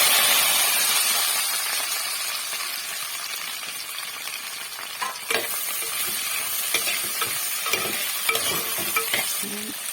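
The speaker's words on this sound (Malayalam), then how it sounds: "കടുക് പൊട്ടി നമുക്ക് വെണ്ടയ്ക്ക ഇടാം" Steady crackling sizzle of okra frying in hot oil after mustard seeds have popped, with occasional clinks and scrapes of stirring; no voices.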